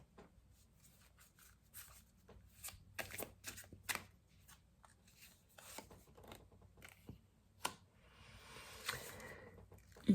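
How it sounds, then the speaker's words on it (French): Tarot cards are shuffled and drawn close up, with soft rustles, rubs and sharp flicks of card stock coming in uneven bursts, then a longer, denser shuffle near the end and no talking. "Je vais prendre une dernière carte"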